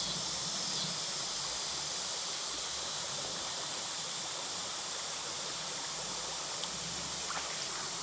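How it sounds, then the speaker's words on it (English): Flowing stream water at an outdoor survival site, a steady broadband rush and trickle that stays even throughout with no talk. "So I tried collecting water from the surface. Once again, it is flowing water"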